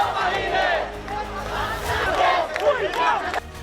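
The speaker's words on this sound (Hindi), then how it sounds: "शेख हसीना के देश छोड़ते ही भीड़ ने प्रधानमंत्री आवास पर धावा बोल दिया" A large crowd storming the Bangladesh prime minister's residence roars and shouts in loud, overlapping chants that rise and fall continuously up close, with no break in the noise.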